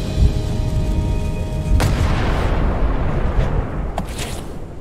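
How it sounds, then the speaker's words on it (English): A single ship's cannon shot in the Return to Monkey Island video game: a loud boom near the two-second mark over a dense rumbling background, then a sharper crack toward the end. "So, dann schießen wir mal die Kanone ab."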